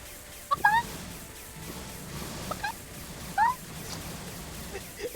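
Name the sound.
chicken clucking sounds from a video game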